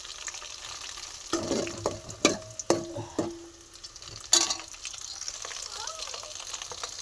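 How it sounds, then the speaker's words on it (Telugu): Onions frying in tempering for a beetroot curry, a low sizzle broken by sharp scraping and clattering stirring strokes from a spoon in the pan, close and moderate, with no talk over it. "ఉల్లిపాయలు తాలింపు వేస్తున్నాము."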